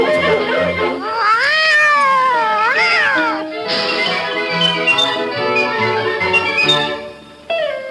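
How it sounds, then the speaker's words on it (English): A kitten meows and caterwauls in a radio drama sound effect, a white kitten stuck up a tree, giving a string of drawn-out, rising and falling cries close up and loud, with no talk. "Dog has got a white kitten up a tree."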